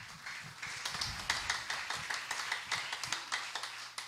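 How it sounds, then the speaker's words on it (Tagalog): A church congregation claps in a steady, quick rhythm during a preaching service, the sharp claps fairly close and continuing for several seconds with no talk over them. "Lakasan ang palakpak."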